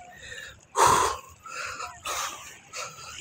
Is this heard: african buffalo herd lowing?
no